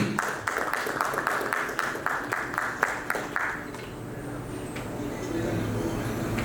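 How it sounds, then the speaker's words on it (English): Audience clapping welcomes a guest of honour to the stage at a keynote event in Ludhiana, a run of distinct claps for about three seconds that then fades into room murmur and low background noise. "Ladies and gentlemen, a big round of applause for Sri Upkar Singh Ji."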